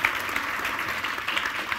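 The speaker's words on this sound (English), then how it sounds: "Big round of applause, please." Studio audience applause on a couples game show, a dense, fairly loud burst of many hands clapping continuously with no talk over it.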